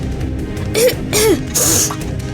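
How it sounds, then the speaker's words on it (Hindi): A person nearby gives a few short, rough coughs with a throaty, voiced edge, followed by a breathy exhale. "बस थोड़ी सी खांसी हो गई है मुझे"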